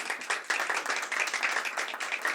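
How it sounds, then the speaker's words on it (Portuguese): Applause from a festival audience welcoming a speaker onstage, a steady patter of scattered hands clapping at moderate distance with no voices over it. "Palmas para a Luciane"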